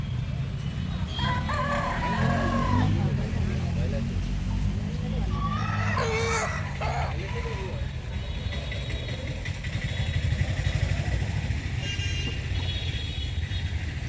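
Chickens gathered at a temple in Cherthala, with a rooster crowing once partway through, moderately near, under a steady low engine-like hum while a person talks over much of it.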